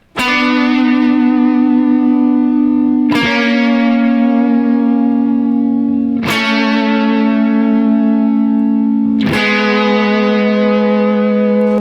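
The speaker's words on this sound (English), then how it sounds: "there's something magical when two different guitars are playing one note each, and there's a lot of distortion" Two heavily distorted electric guitars, each playing one note, sustain a droning chord together, struck anew four times at regular intervals, loud and ringing with no talking.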